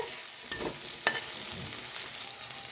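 Ground spice paste hits hot oil already tempered with garam masala and dry red chillies for shahi paneer. A steady close sizzle is broken by two brief stirring clatters near the start, then it settles into an even fry.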